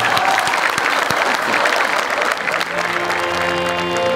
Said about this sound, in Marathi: मी लोकांना तापवते टाळ्या.